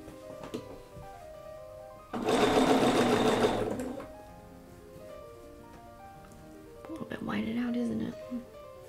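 A sewing machine stitches quilt blocks in one loud, steady burst of about two seconds, then a second, shorter run follows after a pause, with quiet room sound in between.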